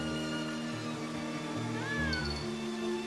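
A cat meows once in the video game The Adventures of Elliot, a short rising-falling cry heard over a steady bed of music and ambience.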